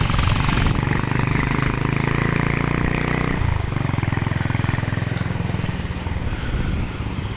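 A motorbike engine drones steadily throughout a short ride to get ice cream, loud and close with road noise and wind, and the engine note shifts partway through.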